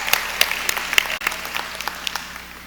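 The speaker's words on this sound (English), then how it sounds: "give the transfers a round of applause" Audience applause at a university matriculation convocation for new transfer students: a hall full of scattered clapping with sharp individual claps standing out, moderately loud and steady, tapering slightly toward the end, with no talking.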